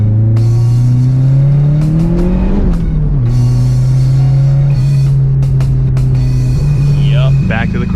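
A car engine starts up and settles into a steady low idle with a few rises in revs, loud and close, with a person talking over it at times.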